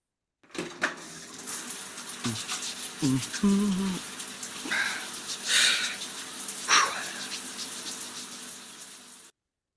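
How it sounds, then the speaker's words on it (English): Water runs from a shower in uneven gushes and sprays, with a few brief knocks and clatters near the start, while faint voices sound in the background. "Have a shower."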